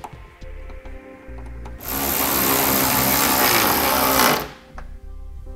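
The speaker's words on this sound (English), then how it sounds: "let's go ahead and reinstall all our fasteners" A power tool whirs loudly for a few seconds while driving fasteners back into a tail light, framed by quieter clicks and handling noises before and after.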